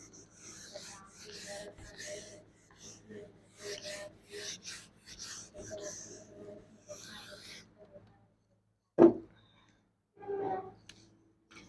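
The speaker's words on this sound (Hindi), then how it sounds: "चलिए मैं इसको रब करती हूँ" A board is erased with repeated rubbing strokes that come in a rhythmic series of scrapes, followed by a few louder isolated rubs, while someone speaks intermittently.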